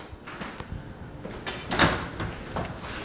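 Kitchen oven doors opened with a sharp clack and rattling metal scrapes, close and fairly loud, several knocks spread over a few seconds.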